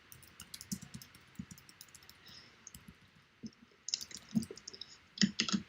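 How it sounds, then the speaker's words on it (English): Someone types on a computer keyboard during a programming lecture, quiet, uneven bursts of key clicks that grow louder and denser toward the end. "Ah, and my bad typing as well."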